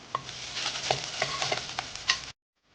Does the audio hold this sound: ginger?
yes